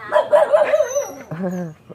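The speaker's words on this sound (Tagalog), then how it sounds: "Dami niyang alagang aso dito, ayan." A few sharp dog barks and yips ring out close by, followed by a short whine.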